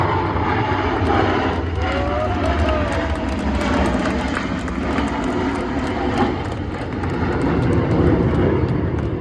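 A military jet performs a flying demonstration pass with gear, flaps and tail hook down, a loud continuous engine roar filling the air with faint announcer talk beneath.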